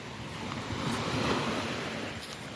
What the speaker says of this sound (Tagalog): Dito tayo sa dagat, mga kamuneng.